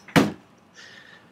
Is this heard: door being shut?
yes